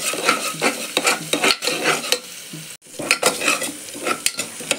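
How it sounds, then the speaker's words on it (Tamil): Ginger and garlic sautéing in a pan, with steady frying sizzle and repeated scrapes and stirs of a spatula against the metal, close and fairly loud, with one brief pause midway. "இஞ்சி பூண்டு நல்லா வதங்கட்டும்"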